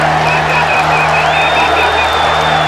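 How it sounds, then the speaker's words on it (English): A large crowd cheers and chants at a karate world championship match between Japanese and Bulgarian supporters, a dense, loud, continuous roar with no break. "the chants of support from the Japanese audience were deafening"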